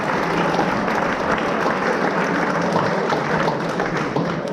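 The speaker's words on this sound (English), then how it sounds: "Big round of applause for our new members." A crowd at a soccer school celebration evening gives new members a sustained round of applause, dense steady clapping from many people that fills the room throughout.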